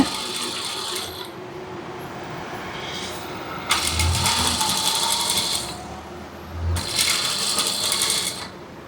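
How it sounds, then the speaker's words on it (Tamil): A sewing machine stitching a chudithar, its motor whirring in close, loud bursts of a few seconds each with a rattling mechanical clatter, separated by short pauses. "இது அப்படியே ரவுண்டாக அப்படியே தைக்கணும். பொறுமையாக தைங்க."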